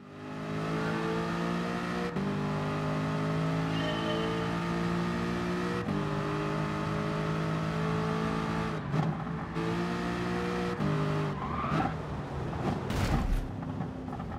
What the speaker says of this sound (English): going to be using the Aston Martin V8 Vantage Group 4